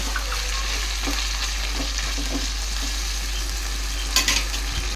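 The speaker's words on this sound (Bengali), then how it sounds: "এবার আমি খুব সুন্দর করে 5 থেকে 7 মিনিট কষিয়ে নেব" Mutton curry sautés in a pan with a loud, constant frying sizzle and occasional spoon stirs and scrapes, close up, with a low steady hum underneath.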